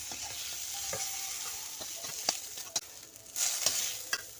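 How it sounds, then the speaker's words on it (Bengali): Pointed gourd (potol) coated with salt and turmeric being sautéed in a pan, a soft sizzle with scattered scraping stirs and clinks, close and moderately quiet, with no talking. "আমার পটলগুলো কষা হয়ে গেছে আমি পটলগুলো নামিয়ে আনবো"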